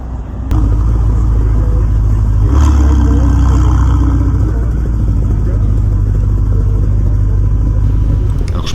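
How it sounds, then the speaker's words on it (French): A Ferrari 488 Pista Piloti engine runs loud and close with a deep, steady rumble, swelling briefly around the middle as if revved, then holding a strong continuous drone to the end. "On enchaîne avec la fameuse Ferrari 488, c'est pas n'importe laquelle, c'est la version Piloti"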